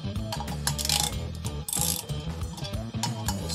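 The belt pulley on a Harley-Davidson Dyna is turned by hand past a slightly tight spot, giving close, continuous mechanical clicking, ratcheting and grinding with uneven pulses.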